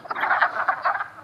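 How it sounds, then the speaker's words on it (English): A dense chorus of wood frogs mating in a Vermont pond in April makes a close, continuous rapid clucking croak in overlapping pulsing bursts. "somewhere in this clusterfuck of wood frogs, there is a female"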